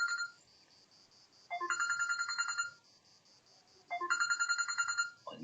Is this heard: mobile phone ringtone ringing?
yes